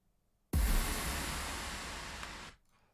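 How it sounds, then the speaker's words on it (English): A heavy impact effect from an electronic music mix hits suddenly with a deep boom, then sustains as a loud, wide noise wash for two seconds before cutting off abruptly. "So the impact sounds like this."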